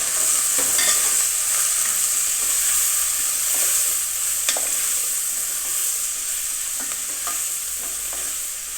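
Curry leaves and onion frying in a pan and being stirred, a steady bright sizzle with occasional scraping strokes of the spoon, close and alone without any talking.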